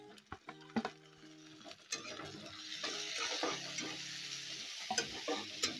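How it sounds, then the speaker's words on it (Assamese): Tomatoes fry in a pan with a steady, growing sizzle while a utensil scrapes and knocks against the metal in irregular stirring strokes, close and fairly quiet. "বিলাহীখিনি অলপ ভাজা যাব লাগিব।"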